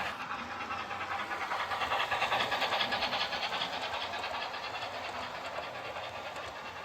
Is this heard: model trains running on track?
yes